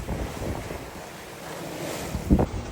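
A sailboat at sea on a solo Atlantic passage from Gambia to Cabo Verde, making about 6 knots through 3 to 4 foot waves. Steady wind and surf wash around the hull, with a louder splash near the end.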